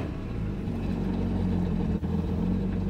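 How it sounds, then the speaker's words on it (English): A Waverunner jet ski engine runs during a flush after a saltwater ride, holding a steady, loud, close mechanical drone with only a brief dip partway through. "Now I'll give the engine a few blips of throttle just to force out any water that's left in the water"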